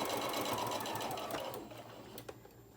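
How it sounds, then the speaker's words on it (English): A sewing machine stitches two pieces of fabric together for a gingerbread man craft, whirring steadily up close before slowing and stopping partway through, followed by a faint click. "just start sewing around"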